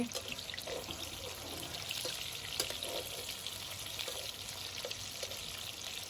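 Loitta (Bombay duck) fish pakoras fry in hot oil, giving a steady close sizzle with soft scraping and clinks as they are flipped, and no talking.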